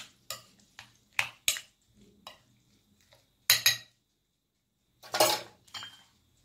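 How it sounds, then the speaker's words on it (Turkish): Utensils clink and scrape against a bowl in irregular bursts of mixing chicken salad with yogurt and pickles, close by, with quiet gaps between strokes. "Karıştırıyorum."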